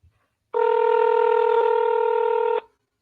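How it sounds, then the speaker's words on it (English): A telephone rings on an outgoing call, a steady two-tone ringback lasting about two seconds, loud and close, with near silence before and after. "Oh, it's ringing."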